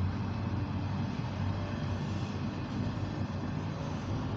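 Intermodal freight train passing in Hammond, Indiana, a loud steady rumble and roar of rolling cars holding even for several seconds without a break.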